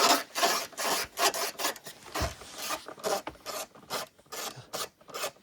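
A socket wrench works a nut loose on a 2026 GMC Sierra Denali 2500, rasping in repeated short scraping strokes, close and steady with brief gaps between pulls.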